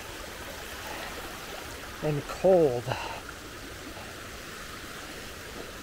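Cold mountain stream water rushes steadily near Chamonix as a continuous broadband wash, with a brief spoken phrase cutting in over the flow partway through.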